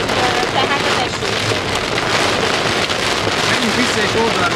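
Dense, heavy rain and hail drum hard on a surface in a loud, unbroken roar, with scattered sharper impacts and voices faintly beneath it.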